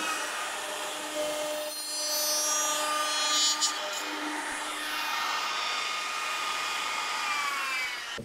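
A handheld router with a flush-trim bit rides its bearing along a wood surface, giving a sustained high whine with shifting pitch and scraping cutting noise that runs steadily for several seconds at close range.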